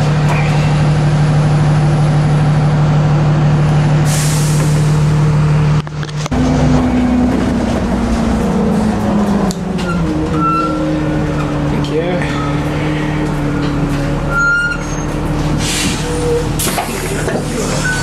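A city bus in Cape Town pulls up nearby with a loud diesel engine drone and a sharp hiss of air brakes, over steady street traffic noise.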